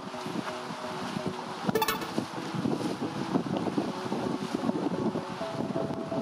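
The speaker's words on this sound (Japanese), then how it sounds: "ちょっと風が強いですね。" Strong wind buffeting at a seaside fishing spot on Iki Island: a continuous rough roar of gusts battering the microphone, with faint water and boat sounds beneath, no talk.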